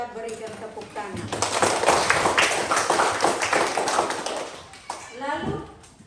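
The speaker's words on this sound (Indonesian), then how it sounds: "Mari kita berikan tepuk tangan." A class of children claps hands in a civics lesson, a brisk, somewhat uneven patter of many small hands for a few seconds, with a voice and children's voices heard around it.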